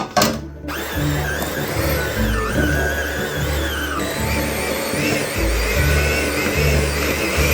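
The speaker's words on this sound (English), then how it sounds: "We're gonna put our cream cheese in first and get that going." A hand mixer whirs steadily while beating cream cheese in a bowl for a Basque cheesecake, its motor loud and close with a bright clatter at the start and slight shifts in pitch as it works.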